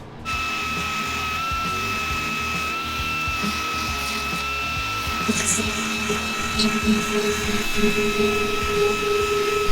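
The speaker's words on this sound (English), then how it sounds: "Now I need to grind the seam and we will be ready for some fiberglass." An angle grinder works a welded seam on a wrecked 1,000 HP LS-powered car, a steady high-pitched whine running continuously at close range with some rougher grinding toward the end.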